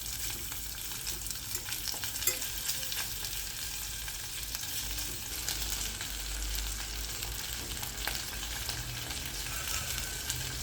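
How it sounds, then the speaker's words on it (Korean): Mallard duck legs and chopped bones frying in a pan with a thin film of cooking oil, making a dense, continuous close sizzle at an even level throughout, with no talking. "팬에 식용유를 아주 살짝 두르고 다리와 토막낸 뼈를 넣고 구워줍니다."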